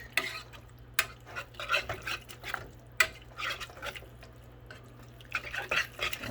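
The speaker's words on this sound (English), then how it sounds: "And now we are just going to stir" Mac and cheese being whisked in a pot off the heat, the whisk giving soft, irregular scraping and clinking strokes with a few sharper taps against the pot, fairly quiet and close, no talking.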